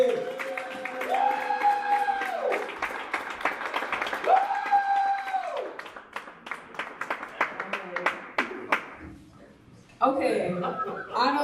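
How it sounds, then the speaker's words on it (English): An audience at a live show claps to welcome a performer, with scattered, rhythmic handclaps under a sung or chanted voice, then a pause before a speaking voice takes over. "Start clapping right now"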